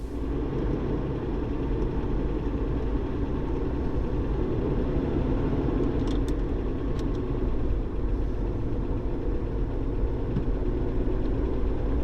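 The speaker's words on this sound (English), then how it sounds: "The smoothness of the 12-cylinder Cadillac engine is hard to beat." A 1935 Cadillac V12 Town Cabriolet engine runs steadily on the road, a smooth, even low drone with constant vibration throughout and no talking, loud and close.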